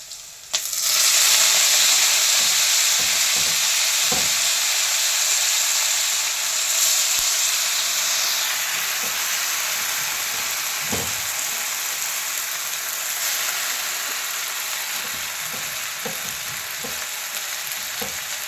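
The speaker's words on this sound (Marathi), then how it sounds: "मिरच्या पण फ्राय करून घेऊया आपण तर आपण आता भाजी पण त्याच्यामध्ये टाकून घेऊया" Green chillies and chopped amaranth greens fry in hot oil in a pan, a loud sizzling hiss that jumps up at the start and then holds steady while occasional stirring clinks sound, without talk.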